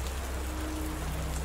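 Steady rain falls on wet cobblestone streets, a dense, even hiss of drops spreading across the whole clip with no voices.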